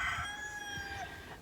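Backyard chickens in a winter garden crow and cluck, a rooster's long call drawn across the clip over soft scattered clucks, close and steady with no talking.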